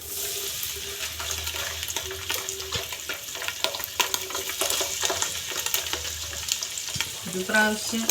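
Mussels fry in sesame oil for a pickle, a loud continuous crackling sizzle up close with scattered pops and spatter, plus stirring clatter near the end.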